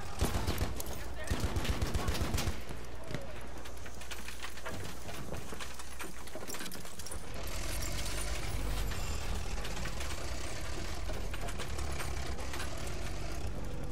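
Rapid video game gunfire in a 32-versus-32 Xbox One hardcore battle, with dense automatic bursts and scattered shots running through a noisy combat soundscape with voices.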